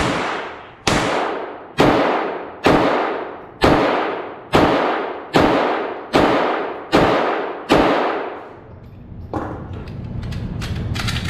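Ten sharp gunshots fired in a steady, evenly spaced string on an indoor range at 18 yards during a Mantis X10 Elite training session, each loud crack trailing off into reverb, followed by quiet shuffling and handling noise.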